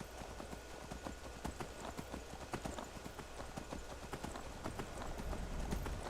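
Horse hooves clip-clopping in the video game Skyrim as the horse is ridden east over mountain rocks, a quick steady patter of close, crisp footfalls throughout.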